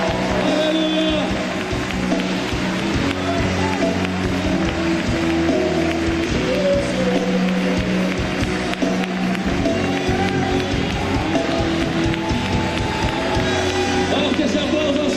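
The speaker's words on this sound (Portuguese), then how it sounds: "Esse aplauso ao Senhor." A church congregation applauds loudly during a worship service, a dense and sustained wash of clapping and crowd noise mixed with music, with a voice speaking over it.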